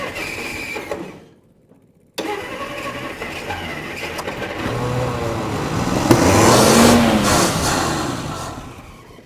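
Old Plymouth engine cranking after 30 years sitting, a brief silence, then renewed cranking that builds into a rough, rising engine roar up close, faint voices underneath.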